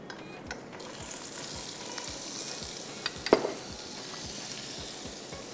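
Butter melts into hot oil in a pan, giving a steady soft sizzle with a low rhythmic thumping throughout and a few brief clinks midway.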